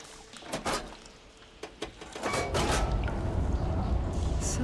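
Water flow switched on by machinery in the Horizon Forbidden West video game: a few clunks and thuds, then a steady, loud rushing of water that swells and keeps going.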